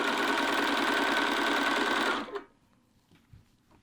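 A sewing machine stitches a small back tack along a seam, a loud, fast, steady mechanical whir lasting about two seconds before stopping abruptly, followed by faint handling noises.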